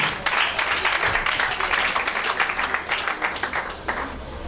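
Applause from a wedding congregation at a religious ceremony as a pastor walks forward, dense clapping of many hands sustained throughout at moderate level, a faint low hum underneath.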